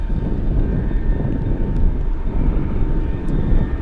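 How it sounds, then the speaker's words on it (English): Giant cargo aircraft, flight 8120 bound for Los Angeles, roaring steadily at Anchorage on a gusty day, a broad low engine rumble with wind noise and no talk. "Giant 8120 flying to Los Angeles"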